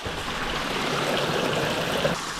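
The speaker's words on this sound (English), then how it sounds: "Nice wee stream." A small mountain stream in the New Zealand backcountry flows with a steady close rushing and burbling of water, loud and unbroken, with no voices.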